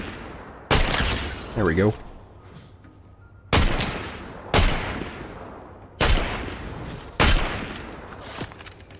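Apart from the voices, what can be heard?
gunfire providing cover fire in a video game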